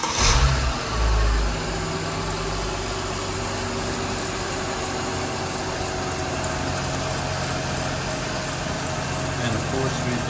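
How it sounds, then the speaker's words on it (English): A 2008 Mercedes-Benz E350 4Matic engine after oil cooler and oil filter housing replacement, starting with a brief cranking rumble and then idling at a steady, even hum with a running fan, heard close up. "we'll start, make sure the fan kicks in, and we'll see how the car sounds"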